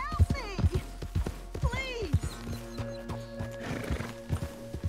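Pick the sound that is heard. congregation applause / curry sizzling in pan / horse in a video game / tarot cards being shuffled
horse in a video game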